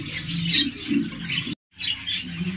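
A pair of Japanese budgerigars of the double flower variety chirp and warble close by in a rapid run of bright calls, with a brief gap of silence before the chattering resumes.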